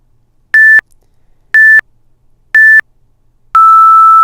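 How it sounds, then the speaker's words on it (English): A fitness app's interval timer sounds three short, identical electronic beeps spaced a second apart, then a longer, slightly lower tone that runs on, all loud and clean against near silence. "this exercise will beep right there at 10 seconds"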